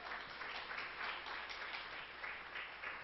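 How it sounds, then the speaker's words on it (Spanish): Church congregation applauding during a Spanish-language sermon, a steady dense wash of many hands clapping throughout, moderately distant and fairly quiet, with no voices over it. "vamos a dárselo al Señor ese aplauso"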